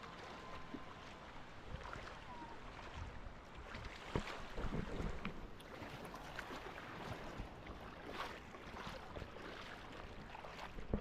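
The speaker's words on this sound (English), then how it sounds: "there we can see also the long boats" Steady wind and water noise with a continuous engine drone of Thai long-tail boats out on the sea off Kata Beach, Phuket, fairly distant and even throughout.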